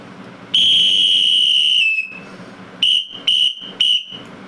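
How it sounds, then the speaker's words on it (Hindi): Sharp whistle blown once long and then three times short in quick succession, loud and close with no talking over it. "बस ये सीटी बजानी है और पर्याप्त है आपके लिए।"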